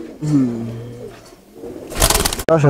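A giribaz breeding pigeon held in the hand gives a short, low coo up close, followed by a burst of rustling and fluttering as it is handled.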